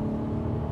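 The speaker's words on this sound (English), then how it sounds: "Now we're in the third gear, already good RPMs, and at 70 kilometers an hour, 45 miles an hour, let's accelerate" A 2022 Ford Focus ST-Line pulling hard in third gear from about 70 km/h, its engine giving a steady, close, droning rumble from inside the cabin with no voices over it.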